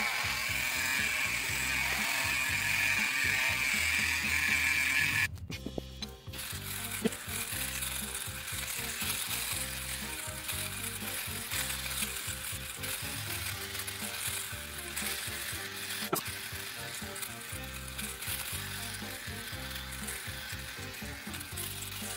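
Electric clipper or razor buzzing steadily as a long beard is shaved off completely, a dense rasping, crackling cut close to the mic that runs continuously after a brief break, with no talk.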